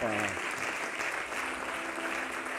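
A church congregation breaks into loud, sustained applause, a dense steady clatter of many hands filling the room for the whole stretch, with a voice briefly audible at the start.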